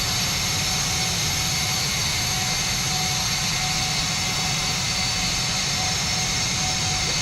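Steady jet engine roar from an aircraft taxiing in the FlightGear flight simulator, a continuous broadband whine with a sustained tonal hum, even in level throughout with no talk.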